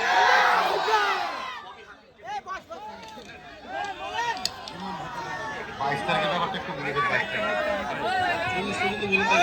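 A large crowd at a Bengali political gathering roars back in answer to a Takbir chant, loud massed shouting voices rising together, dipping briefly, then swelling again into sustained chanting and chatter.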